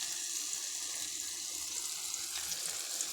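Cauliflower 65 pieces frying in hot oil that has already been used for an earlier batch, giving a steady, continuous sizzle and hiss with no voices.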